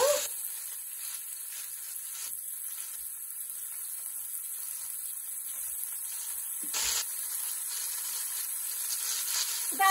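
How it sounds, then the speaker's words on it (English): Onions and carrots sizzle steadily in olive oil in a pot, a loud continuous hiss and crackle with a brief flare of stirring noise midway. "I'm going to add 2 more tablespoons of olive oil. To this, we're going to add our onions and our carrots and a little pinch of salt."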